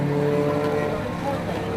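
A race car at a club enduro race at Croft circuit drones steadily with a sustained engine note, close and loud throughout.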